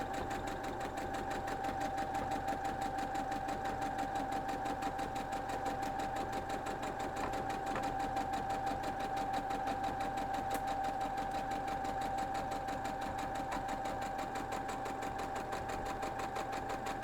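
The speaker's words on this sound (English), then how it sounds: "So let's go sew these together." Sewing machine stitching quilt block pieces together, a steady continuous motor whir with rapid needle rhythm running unbroken throughout, close and fairly loud with no talk.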